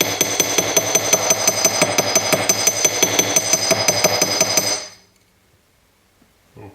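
A hammer rapidly flattens a sterling silver bird brooch on a hard surface, striking in a steady fast rhythm of bright metallic taps for about five seconds before stopping, with only faint handling noise afterward.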